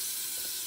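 Water runs steadily from a tap while a fish tank is being filled, a continuous close hiss of flowing water with no talking.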